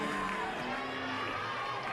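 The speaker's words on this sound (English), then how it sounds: "they're going to cheer that long foul ball" College softball crowd, Texas hosting Florida State, raising a loud sustained cheer with whoops and shouts, steady and dense throughout.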